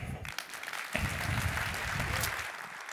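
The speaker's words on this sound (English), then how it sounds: "just another round of applause" Applause from an audience follows a presentation, with a fairly steady wash of clapping mixed with low rumbling background noise, and a voice briefly audible at the start.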